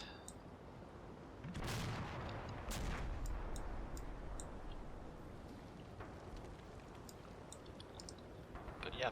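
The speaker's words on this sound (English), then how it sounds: "Running away from Stardeck's mortar." Mortar fire in a military video game, distant booming impacts and blasts around the second and third seconds amid faint clicking and background rumble, fairly quiet overall.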